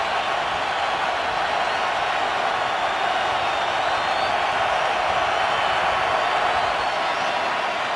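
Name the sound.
stadium crowd noise at Panthers vs Texans football game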